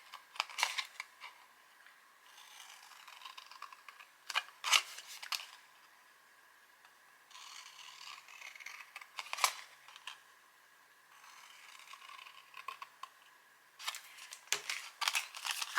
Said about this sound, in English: so I'm going to be cutting along those fold lines.